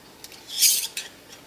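Metal canning ring and lid handled on a jar of apples in syrup, a short scrape and a few light metallic clinks, close and fairly clear, with no one talking.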